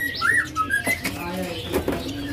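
A female white-rumped shama (murai batu) gives a few short whistled notes and chirps, fairly close and clear against a quiet background, with brief gaps between phrases.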